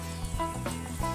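Onions frying in a pan with whole garam masala over a medium flame: a steady, faint crackling sizzle with small pops and stirring scrapes, heard up close without talk.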